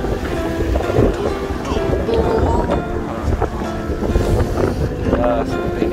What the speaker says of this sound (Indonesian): Aduh, gila anginnya.